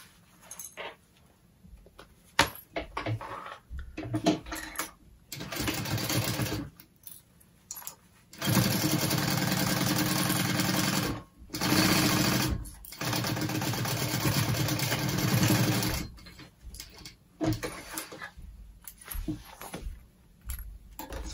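A sewing machine bastes the top of a backpack flap into place for a convertible backpack, running in several bursts of steady mechanical whirring separated by pauses and small handling clicks.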